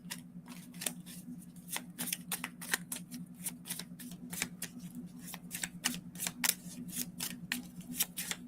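A deck of oracle cards is shuffled over and over, quick crisp riffling flicks in an even rhythm, close and steady over a low background hum, with no one speaking.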